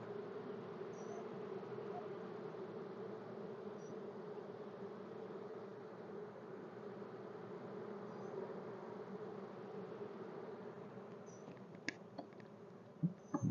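Honey bees buzzing steadily in an open hive whose frames are heavy with honeycomb, a dense continuous drone with a few brief knocks near the end.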